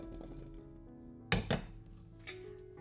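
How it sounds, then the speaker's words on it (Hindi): Metal pressure cooker holding amla coated in mustard oil, shaken by its handle: a few sharp clanks and rattles, two close together then one more, over low kitchen hum. "कुकर को हैंडल से पकड़कर ना इस तरह से चलाएंगे"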